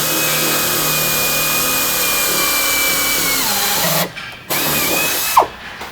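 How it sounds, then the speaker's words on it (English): A power drill runs steadily and loud while boring holes through the bottom of a door jamb, a continuous whine that cuts out briefly twice near the end. "Drill 2 holes through using the 2 holes in the bottom of the jamb as a drill guide."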